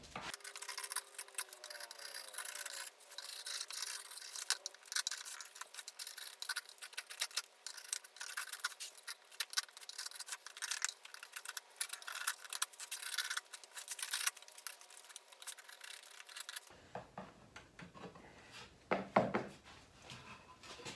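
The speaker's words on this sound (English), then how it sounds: "if there's any big chunks of glue, on this side there's not going to be, but if there is, you're going to want to chisel those off as best as you can" Dried glue chunks are chiselled off a wooden cutting board, a rapid series of close scraping and rasping strokes that continue steadily, ending with a few quieter scrapes and knocks.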